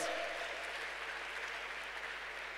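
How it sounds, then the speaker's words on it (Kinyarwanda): A church congregation claps together in worship, a steady, dense wash of applause that holds evenly from start to finish with no voices standing out. "Komera Imana amashyi"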